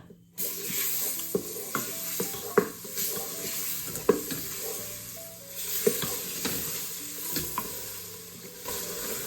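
Meat sizzling in a frying pan with onions already fried golden, for an Albanian tave kosi, steady loud frying hiss with repeated scrapes and knocks of stirring throughout, no talk.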